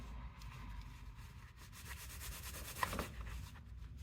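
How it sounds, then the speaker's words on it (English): A piece of leather for a keychain is rubbed down with a terry cloth, giving a soft, steady scuffing that stays faint and close throughout with no talking. "And then I like to take a little bit of cloth"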